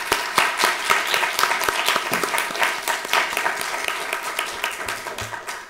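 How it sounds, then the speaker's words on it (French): An audience in a university lecture hall applauds after a talk, with a fairly close, lively burst of clapping that swells and eases in waves, individual sharp claps audible, tapering near the end. "On peut l'applaudir."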